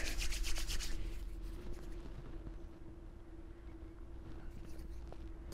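Hands rub a couple of drops of beard oil together, a soft, close, repeated swishing friction that is quiet throughout, with no talking during the rubbing.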